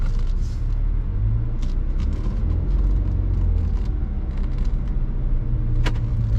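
A manual car pulls away in first gear in New York City traffic, its engine a steady, close, low rumble that continues throughout with faint street noise above it.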